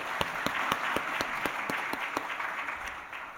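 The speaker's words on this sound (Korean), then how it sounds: "한번 박수 한번 합시다" Church audience applause follows a choir's performance, with steady, evenly spaced claps ringing out over a soft wash of clapping from the congregation, moderately distant and without talk.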